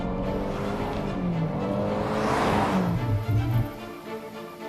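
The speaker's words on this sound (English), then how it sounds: "I'm gonna speed up. We're gonna do a bit of a brake test again." VinFast car on a test track speeding up and then braking hard, a steady close engine drone that rises and falls, ending in a brief squealing tone as it slows.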